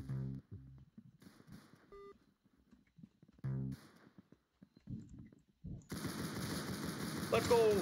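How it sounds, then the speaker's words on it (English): Gunfire in the Roblox video game rises in the last two seconds as a loud, rapid burst of shots. Before it come quiet talk, short beeps and game sounds. "I'm hearing gunshots over here, and I'm liking that a lot"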